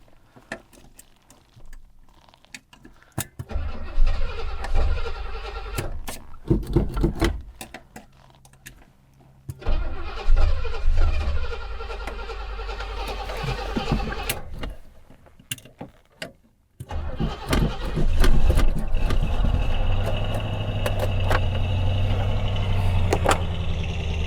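A Buick 455 V8 with a Quadrajet carburetor in an estate wagon cranks in several bursts with mechanical clatter and pauses, then catches and settles into a steady, loud idle.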